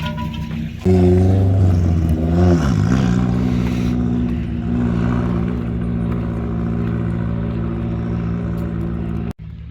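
A drift car sits on a track in Portugal, its engine idling loud and close before rising into revs that swell, dip and hold at a steady drone, then cut off abruptly near the end.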